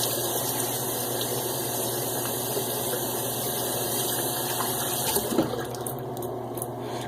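Water runs and splashes steadily over a shaved head during a wet shave, a continuous close, moderately loud trickle with a brief louder splash near the end and no talking.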